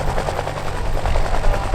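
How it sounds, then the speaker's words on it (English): Steady, throbbing rotor chop and engine roar from a Westland Whirlwind HAR-10 helicopter flying in the display at RAF Cosford airshow, continuous and fairly loud. "Cosford was the first appearance of Lift West's Westland Whirlwind HAR-10 in the flying display at a major airshow."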